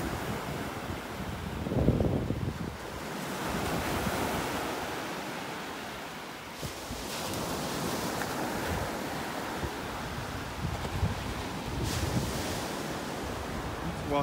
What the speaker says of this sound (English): We're at low tide right now. The tide's just changing, just starting to come back in.